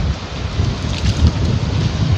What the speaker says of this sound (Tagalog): mas malakas yung hangin talaga